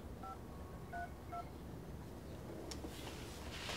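Touch-tone telephone dialing for a call: a few short paired DTMF beeps spaced about half a second apart, moderately clear over a steady background hiss, with no talk.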